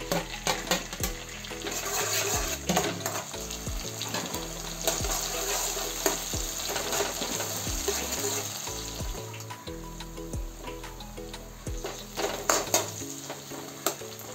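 Tomato and coriander stir-frying in a hot pan for egg fried rice, a loud continuous sizzle broken by rhythmic scraping and knocking of a spatula against the pan; close and busy, with no talking.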